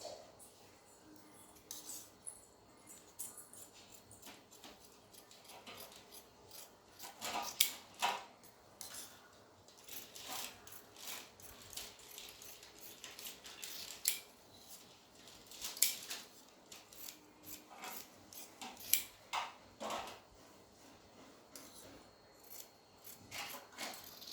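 Scissors cut through blouse fabric along marked lines in a sewing setup, with intermittent soft snips and rustles at close range and several sharper clicks spread over a quiet background.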